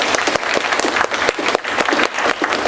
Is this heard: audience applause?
yes